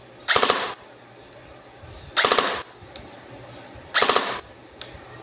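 Three loud, sharp bursts of rapid fire from an AR16 80% metal replica rifle set to burst mode, evenly spaced about two seconds apart, with quiet gaps between and no talk.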